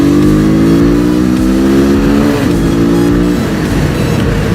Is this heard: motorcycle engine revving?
yes